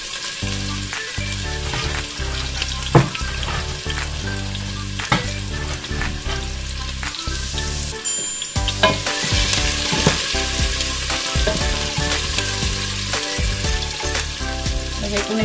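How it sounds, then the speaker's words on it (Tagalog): Chicken frying in a pan with onion and garlic, a steady loud sizzle with stirring scrapes and clatter throughout, alone with no talk. "iluluto ko muna yung aking chicken. Pagsasabayin ko na yung sibuyas at bawang."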